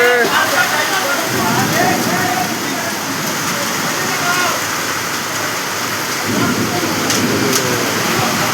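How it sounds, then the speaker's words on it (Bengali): Heavy rain pours down in Garia, Kolkata, a dense steady hiss filling the whole stretch, with people talking over the downpour. "কড়া বৃষ্টি হচ্ছে, কড়া, সব ভিজে দিয়েছে আমাদের এখানে"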